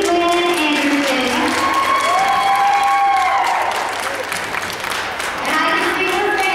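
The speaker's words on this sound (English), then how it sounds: "Big round of applause for contestant number 19, Macy Lynn Anderson" At a little miss beauty pageant, a crowd claps loudly and steadily for a contestant, with cheers, whoops and excited voices rising above the applause, briefly dipping before swelling again.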